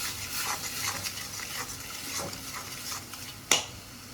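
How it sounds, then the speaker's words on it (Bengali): A cumin, chili and salt spice paste fries in a pan for a chingri malaikari, giving a soft, steady sizzle with scraping stirs and one sharp utensil clink near the end. "এই মশলাটা কষিয়ে নিচ্ছি ভালো করে।"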